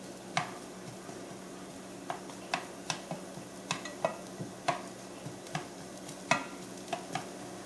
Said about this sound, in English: Mix them up in the oil a little bit. And we're just going to give them a little browning.